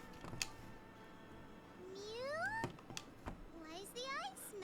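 A cat meows twice in the Atelier Iris: Eternal Mana video game, rising drawn-out cries over a quiet background, the second one wavering, with a faint tick beneath.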